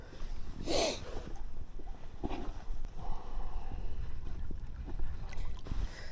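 Wind blows by the Dnipro River in Kyiv, a steady low rumble buffeting the microphone with a few stronger gusts and no talking.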